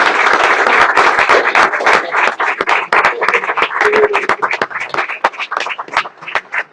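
A crowd at a book presentation claps steadily and fairly close, a dense, continuous applause that thins out toward the end.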